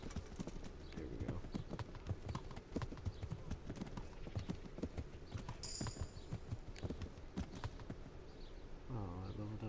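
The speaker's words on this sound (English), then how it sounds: "My horse is up here." Horse hooves clip-clop steadily throughout in the video game Kingdom Come: Deliverance, a continuous trotting rhythm close up, with a brief tonal game chime near the end and a faint whinny-like sound.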